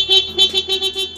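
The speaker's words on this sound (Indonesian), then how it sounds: "Klakson masih berfungsi dengan baik." Horn of a Yamaha NMAX motor scooter beeping in a quick series of about five or six short, loud, close toots with tiny gaps between them, heard alone.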